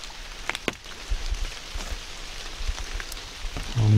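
Rain falls steadily at a campsite at night, a soft, even patter with a few scattered drop hits and no voices.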